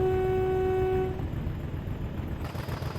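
A loud sustained horn tone with a steady pitch sounds for about a second and then cuts off, leaving a busy mechanical rumble and road noise underneath, heard while riding downhill.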